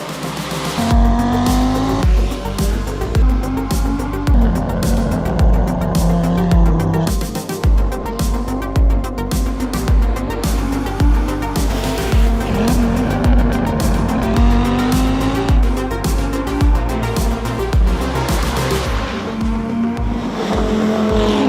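An Audi quattro rally car's engine roars and revs hard at close range, gears shifting as it speeds along, with tires squealing and skidding through repeated hard turns.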